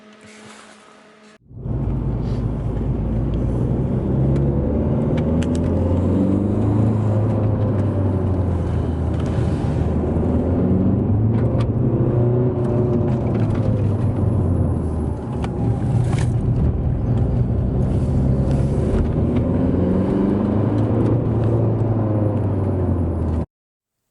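After a brief quiet moment, the diesel engine of a Seat Ibiza Cupra TDI 160 starts and runs loud and steady, a low, gravelly clatter with slow swells in its drone.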